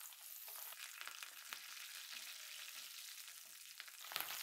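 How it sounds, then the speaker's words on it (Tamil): Curry leaves frying in hot ghee, a soft continuous sizzle and crackle heard close up and fairly quiet, with faint stirring throughout and no voices. "இப்போ கருவேப்பிலை போடுறேன்."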